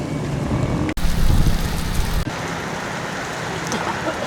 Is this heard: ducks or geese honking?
no